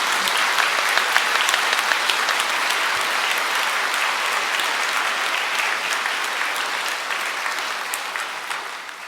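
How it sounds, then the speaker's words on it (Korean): Welcoming applause rises from the congregation at a Catholic bishop's retirement thanksgiving Mass, dense sustained clapping lasting several seconds and slowly tapering off near the end. "우리 환영의 박수 부탁합니다"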